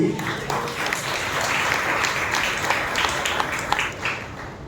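A church congregation at a united evening worship service applauds loudly, a dense sustained wash of clapping that holds steady throughout with voices mixed underneath.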